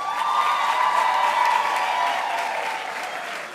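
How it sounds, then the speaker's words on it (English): Sustained, dense applause from a graduation-ceremony audience for the Durban University of Technology graduating class of 2022 at an autumn graduation, steady and loud throughout before easing slightly at the end. "May we all please give them a big round of applause."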